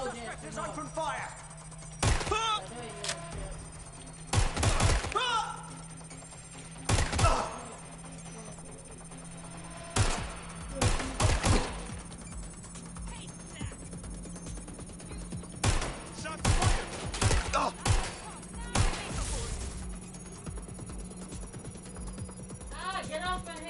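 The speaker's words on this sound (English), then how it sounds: "Vectors open fire" Enemy gunfire in a PS4 video game, with bursts of sharp shots in clusters spread across the stretch over a steady electronic hum, while a player talks at times.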